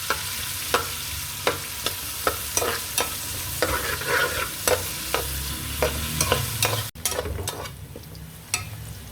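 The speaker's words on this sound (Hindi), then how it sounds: "दो आपने छोटे साइज के प्याज ले लेने, इनको हमने अच्छे तरीके से ब्राउन कर लेना।" Small onions are stirred and browned in a pan of hot oil for vegetable pulao, with a steady sizzle broken by a dozen or so sharp scraping strokes of the spoon, close and fairly loud, no voices.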